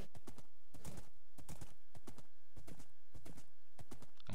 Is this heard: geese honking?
no